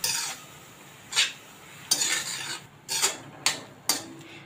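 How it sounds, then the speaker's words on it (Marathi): Grated carrot sautéed in ghee in a pan on low heat, a soft sizzle under repeated scraping strokes of a spoon, about six distinct stirring sweeps, close and clear with no talking. "गाजरचा किस आहे तो आपल्याला तुपावर परतून घ्यायचा आहे"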